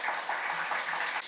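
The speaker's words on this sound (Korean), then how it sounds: "우리 목사님 환영의 박수." A church congregation claps to welcome a pastor at an ordination and anniversary thanksgiving service, giving a short burst of steady, fairly loud applause from many hands.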